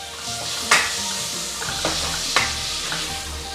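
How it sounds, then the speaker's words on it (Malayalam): Ripe tomato pieces sauté with beef masala in a steel pressure cooker, giving a steady soft sizzle broken by a few sharp scrapes and clinks of a stirring spoon against the metal. "നന്നായിട്ട് ഇതൊന്ന് വഴന്നു വരുന്നത് വരെ നമുക്ക് വഴുത്തിയെടുക്കാം"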